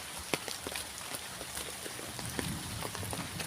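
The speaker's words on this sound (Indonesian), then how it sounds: "Hujan gerimis teman-teman" Light drizzle patters steadily in a remote village, scattered drops ticking on surfaces in a soft continuous hiss.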